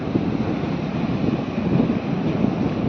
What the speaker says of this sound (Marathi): आता आपण पुढे जाऊन लाटा बघूया समुद्राची लाटा